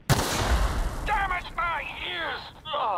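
A loud blast of game gunfire booms at the start, followed by a speaking voice with the rumble fading underneath.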